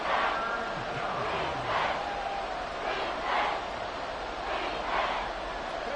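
Crowd noise from a Madden football video game: a steady broad roar from a stadium crowd that swells in several rolling waves, loud and continuous throughout.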